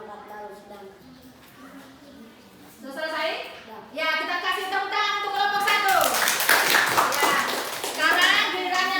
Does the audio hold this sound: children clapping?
yes